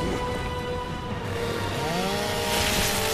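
A chainsaw revs and saws steadily in the video game Gears of War 2, droning loudly alongside game sounds and swelling louder near the end.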